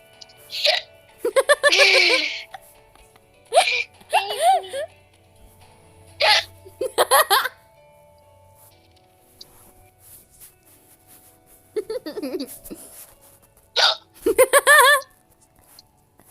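A girl gets the hiccups, with short sharp yelps coming in scattered bursts between pauses, tangled with talk and giggling from people close by.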